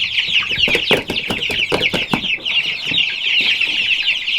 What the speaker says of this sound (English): Some of the chickens in this new egg laying flock have started laying.